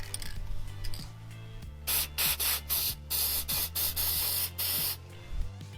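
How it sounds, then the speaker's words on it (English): Dry lube sprayed onto the tailgate latch of a 2010 Toyota Tundra in a string of short, loud hissing bursts, about eight quick spritzes close up over a low background hum. "what I'm going to put on it is a dry lube"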